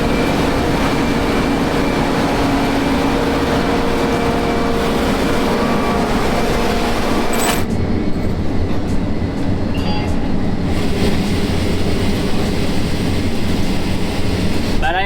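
A combine harvester works a field at the start of the 2023 harvest, its loud, steady engine and machinery drone continuing unbroken for the whole stretch, close by, with no talking.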